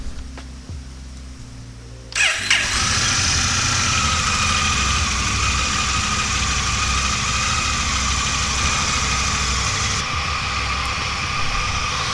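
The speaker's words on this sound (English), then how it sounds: "last thing you have to do is start the bike up" A Honda Rebel 1100 motorcycle sits quietly at first, then its engine cranks and fires up near the start and settles into a steady, loud, close idle rumble.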